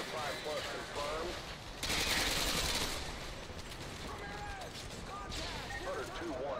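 Sustained machine gun fire in a military video game, loud rapid bursts layered over radio chatter and other battle noise.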